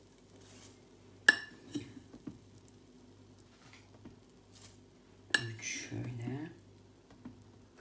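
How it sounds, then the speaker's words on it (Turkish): Spoonfuls of tarhana go into a pot with two sharp metallic clanks and scraping taps of a spoon against the rim, separated by quiet stretches with faint kitchen rustling. "4-5 kaşık içerisine tarhana koyacağım"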